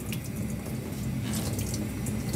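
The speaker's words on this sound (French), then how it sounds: "Voilà, et vous la rincez" Tap water runs steadily from a faucet into a sink, rinsing a freshly developed printing plate; a continuous broadband splashing stream, close and fairly loud, with faint dripping accents and no talk.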